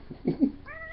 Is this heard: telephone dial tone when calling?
no